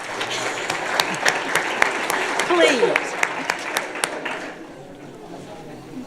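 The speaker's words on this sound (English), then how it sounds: "These you can applaud." Audience applause at a parish council meeting, steady clapping from a room of people lasting several seconds before fading out, with a voice speaking briefly over it.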